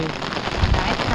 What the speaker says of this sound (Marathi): पहिलेच बघा भयानक पाऊस पुष्कळ बघा